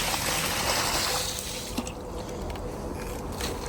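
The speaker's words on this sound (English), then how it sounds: "We're gonna try and pour hot water." Hot water poured in a historic bell tower kitchen, a steady broadband trickle and splash that runs throughout, loud at first and easing slightly after the midpoint, with no talking.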